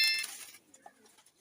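A male Sialkoti flying pigeon held in the hand gives a brief, faint call, with a soft clinking burst at the start followed by quiet low murmurs.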